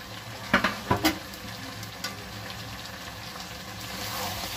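Potatoes dropped into hot oil in a home kitchen pan: a few sharp splashes at first, then a steady, close, even sizzle of frying that carries on alone.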